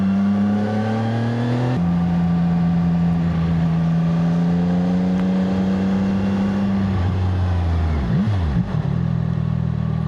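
A CF Moto 675 SR-R sports motorcycle rides along with a loud, steady engine drone, shifting pitch at a gear change and dropping with a brief downshift near the end, all under constant wind noise.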